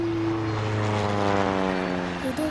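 A propeller airplane drones overhead, loud and steady with a pronounced low engine hum throughout, no speech.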